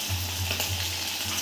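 Chicken pieces frying in hot oil, a steady close sizzle with constant crackle and a low hum running underneath throughout.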